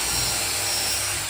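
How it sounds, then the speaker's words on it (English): A steady, continuous whir of a drill pre-drilling holes in wood for exterior deck railings, close by and fairly loud, with no voices. "So I'm pre-drilling"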